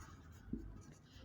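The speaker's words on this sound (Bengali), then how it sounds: "তো সেটা একটু আমরা লিখি" Marker or chalk strokes on a board during a higher-math lesson on matrix types, a few soft scratchy marks with two brief louder taps, close and alone without talk.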